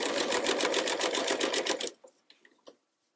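A sewing machine stitches curved fabric in a fast, steady run of needle strokes that stops abruptly, followed by a few faint handling clicks.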